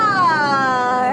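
A human voice imitating a lion's roar, a single sustained, wavering growl held for about a second, loud and close, with no other sound around it.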